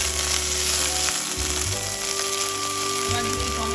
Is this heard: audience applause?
no